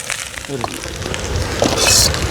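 Garlic, carrot, beans and chili hiss and sizzle as they are stir-fried in a pan for seafood fried rice cooked outdoors on a beach, a loud close crackle rising briefly near the end.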